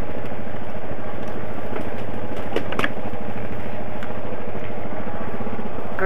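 A vehicle engine idling down outdoors at dusk on a hunting trip, a steady low rumble with faint clatter, heard alone without talk.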